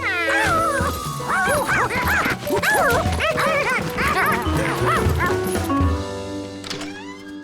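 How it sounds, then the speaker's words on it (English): Cartoon dog barking in an animated children's show, a run of repeated high yips and barks over background music, loud and close, with a short whimper-like tail near the end. "When he heard her bark, he knew it was Charky."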